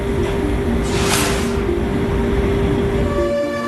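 A 138-tonne diesel-electric NJ2 locomotive on the world's highest railway runs with a loud, constant engine rumble and steady tonal whine, a brief hiss of noise rising and fading near the middle.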